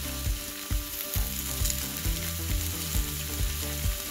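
Bacon, sausage patties and hash browns sizzle on a large griddle, a steady frying hiss broken by repeated metallic scraping clicks of a spatula, moderately loud with no voices.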